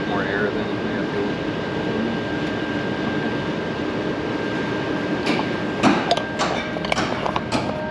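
A turbocharged drag car engine roars steadily under load on a dyno, a dense continuous drone with whistling turbo tones. Short sharp pops come near the end, and people talk under it.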